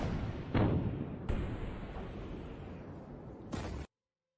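A massive explosion in filmed footage, one likened to an earthquake, comes through as a loud, sustained roaring rumble with a sharp burst near the start and another surge before it cuts off abruptly.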